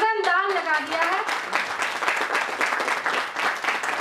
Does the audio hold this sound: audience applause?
yes